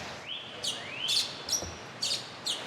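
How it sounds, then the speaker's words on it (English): Birds in an indoor aviary holding about 80 birds of 30 species call and chirp, with repeated bright chirps and rising whistled notes at irregular intervals, fairly close and with no talk. "We have about 80 birds in here and 30 different species."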